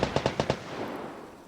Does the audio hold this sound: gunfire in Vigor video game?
yes